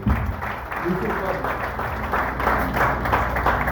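Applause from a church congregation rises under a low hum of voices and room noise, steady and moderately loud throughout the short stretch.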